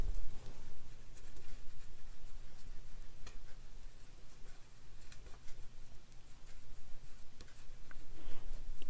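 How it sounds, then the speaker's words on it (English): A bone folder rubs and scrapes steadily over freshly glued paper during a craft project near an embedded magnet, a close, continuous dry friction sound with small ticking strokes throughout. "Put a little extra glue right in here. That'll hold it down better. Let's use our bone folder."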